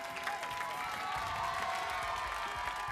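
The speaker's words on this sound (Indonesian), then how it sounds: "Kasih tepuk tangan dong" Studio audience applauding for Jian on an Indonesian TV variety show, a steady wash of clapping with some crowd noise and faint music underneath, continuous and moderately loud throughout.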